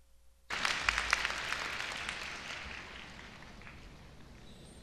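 Applause bursts in suddenly from a crowd at a university freshman entrance ceremony, loud at first with scattered sharp claps, then gradually fading into a softer, sustained patter.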